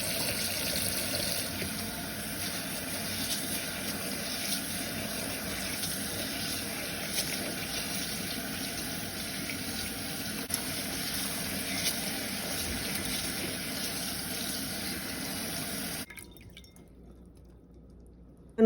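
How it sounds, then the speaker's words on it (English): Tap water runs steadily onto rice in a strainer for about sixteen seconds, a constant close splashing hiss that stops abruptly near the end, leaving near silence. "I'm just going to throw it in a strainer and just run it with some running water and just wash it"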